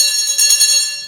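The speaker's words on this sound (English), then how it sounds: "there's the bell." A bell rings with a bright, sustained metallic tone, loud and close for about a second, pulsing slightly as it sounds, with no one talking.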